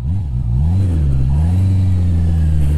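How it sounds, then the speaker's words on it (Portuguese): A Honda CB650R motorcycle's engine accelerates steadily, a loud continuous mid-pitched drone that climbs slightly in pitch and holds close and steady throughout. "O controle de tração também nos dá confiança para puxar um bocadinho mais pelo acelerador"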